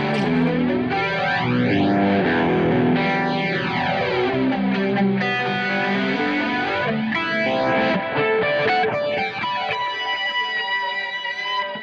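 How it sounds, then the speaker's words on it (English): Electric guitar played through the S-Gear House Burning Down preset, with chorus or flange effects adding sweeping, swirling comb-like tones over sustained distorted chords. The playing is loud and continuous, with no talk. "now you're seeing some of the effects, chorus, or flange here"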